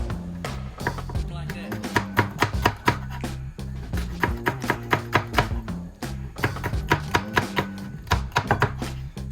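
A knife chops peppers on a cutting board in quick, rhythmic clusters of sharp taps over background music.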